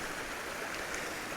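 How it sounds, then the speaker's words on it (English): A small mountain stream flows in a steady, even rush of water, close by and alone on an exposed hillside scattered with blown-down trees. "Got a little stream here."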